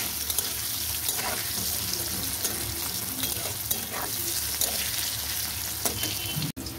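Potato pieces frying and being stirred in hot mustard oil with salt and turmeric, a constant close sizzle broken by repeated scraping stir strokes, loud and steady with no talk.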